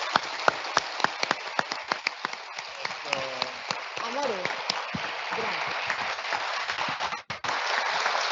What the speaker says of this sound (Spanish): yo creo que se merecen el más grande de los aplausos